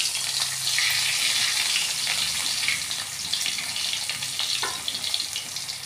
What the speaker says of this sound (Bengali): কড়াইয়ের মধ্যে একদম একটু বেশি পরিমাণে তেল নিয়ে নেবেন যাতে এগুলি ভাজা হয় ভালো করে